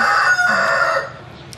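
A rooster crows close by among chickens, one loud drawn-out call that fades at the end.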